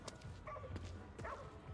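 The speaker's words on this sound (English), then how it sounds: "Oh, I hear a dog." A dog barks in a retro pixel-art video game, giving two or three short, close barks with a steady synthetic hum underneath and no talking.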